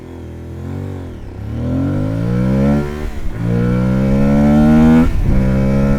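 A 2025 Aprilia Tuareg 660 motorcycle accelerates hard through the gears, its engine rising in pitch on each pull with sharp dips at two quick upshifts, loud and close throughout with no talking.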